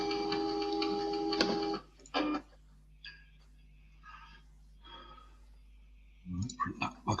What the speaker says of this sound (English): Have to engage the printer.